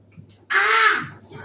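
A single crow caws once beside a lake, a harsh, clear call heard close up against a quiet background.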